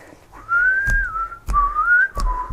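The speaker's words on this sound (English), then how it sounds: "That was actually a pretty accurate whistle there." A person whistles a short melodic tune, the pure tone gliding up and down in a few phrases, close and clear, with soft breathy thumps between phrases.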